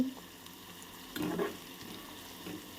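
Carrot, cabbage, corn, onions, curry leaves, green chilies and tempering seeds fry lightly in a pan: a soft, continuous sizzle with a couple of quiet stirring scrapes, faint and close.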